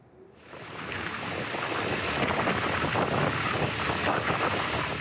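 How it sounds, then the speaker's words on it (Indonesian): Strong wind and heavy waves batter Merak harbour in Banten during bad weather at night, a loud, continuous roar of gusts and surf with wind buffeting the microphone, rising in quickly and holding steady. "Angin kencang serta ombak besar membuat kapal yang akan bongkar muat kesulitan bersandar di dermaga."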